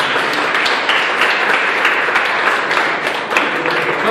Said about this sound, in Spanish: ¿Cuánto le damos un aplauso a Jesucristo?